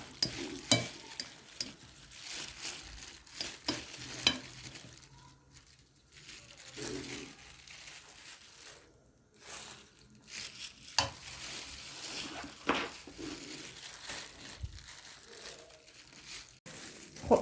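Rice mixture with cabbage being stirred in a cooking pot; soft, irregular scraping and rustling strokes with faint sizzling, fairly close and quiet, with no talk.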